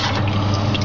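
Water pours steadily into a pot of pasta chicken soup, a continuous close trickle and splash with no talking.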